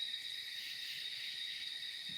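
Crickets chirping at night in a steady, continuous high trill, soft and quiet, with no other sounds.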